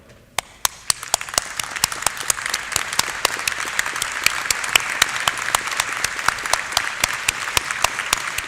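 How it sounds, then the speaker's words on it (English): Graduates at a university graduation ceremony in Belfast applaud together, a thick, sustained wash of clapping from a large crowd that builds after a few sharp opening claps and stays steady and loud throughout. "So I invite you, all of our graduates, to stand with me and applaud"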